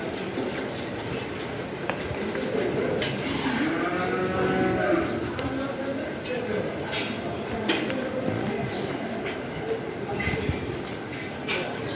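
A cow at a cattle farm in Basila, Dhaka gives one long, drawn-out moo close by, with people talking and outdoor noise around it.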